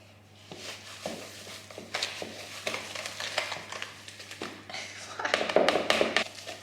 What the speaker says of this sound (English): It's been a long time since I've whisked anything.